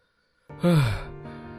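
A cartoon man who has come home panting and out of breath lets out one heavy gasping breath that slides downward, then a softer trailing exhale, close and alone.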